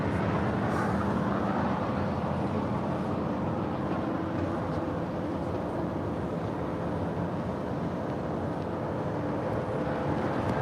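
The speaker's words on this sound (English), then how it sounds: "here we've got Alaska SkyWest 3405 to Salt Lake City. It's a 4-year-old E175" An Alaska SkyWest Embraer E175 LR jet airliner at LAX, a steady broadband engine rumble and roar, moderately distant and continuous, with wind noise and no talking.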